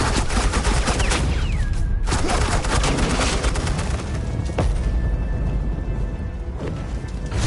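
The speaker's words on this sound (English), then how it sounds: "suppressing fire" Suppressing gunfire from agents in Batman: The Enemy Within, a dense, loud barrage of overlapping shots and impacts continuing throughout with game effects layered in.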